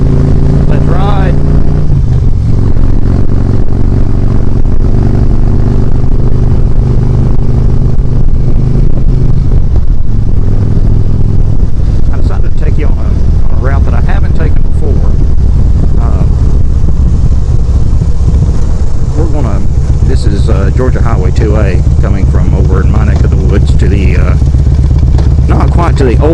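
A Harley-Davidson motorcycle rides along, its engine a steady loud rumble throughout, with rising and falling revs and wind noise, and a voice occasionally speaking over it.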